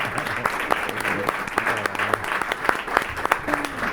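An audience at a talk in Madrid claps in a sustained, fairly close round of applause with distinct individual claps, and a voice speaks over it.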